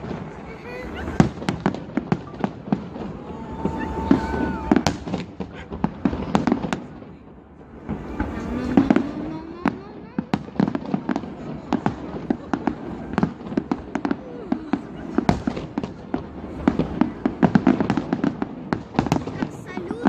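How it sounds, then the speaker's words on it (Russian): Fireworks crackle and pop continuously for twenty seconds, with dense rapid bursts at moderate distance and a few louder bangs, like a New Year's salute display. "Как салют на Новый год."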